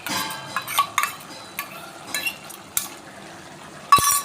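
Stirring spice paste into pumpkin greens cooked with shrimp, with a few light scrapes and clinks of a utensil against the pot that come in scattered, separate bursts and stand out against a quiet background.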